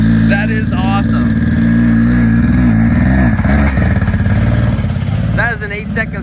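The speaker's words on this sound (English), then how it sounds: "That is an 8-second Civic pulling a trailer." An 8-second Honda Civic drag car towing a trailer, its engine droning loudly and steadily close by with rising and falling revs, voices talking over it.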